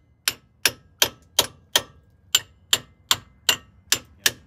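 Hammer striking the spindle on a GM 4106 bus, eleven sharp metallic blows at a steady rhythm about every 0.4 seconds, loud and close with a short ringing decay after each hit.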